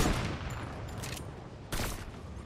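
Gunfire in the Fortnite video game: a dense burst of shots at the start and another at the end of a short stretch, fairly loud over a noisy game background.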